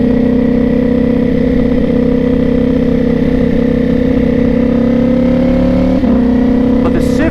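A Ducati Panigale V4 engine runs on a dyno with a loud, constant mechanical drone and a steady rattle throughout, and the pitch dips briefly near the end.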